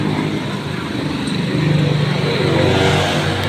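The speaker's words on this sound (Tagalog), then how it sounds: "Sobrang daming sasakyan, ang ingay." Busy road traffic with many vehicles streams past nearby, a dense, steady roar of engines with a car accelerating and swelling louder partway through.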